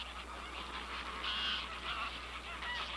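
A flock of geese honks in a brief, overlapping chorus of calls at moderate distance over a low background rumble.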